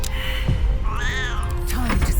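In Baldur's Gate 3, a cat lets out a couple of close, clear meows, the second rising and then falling, over a low game background hum.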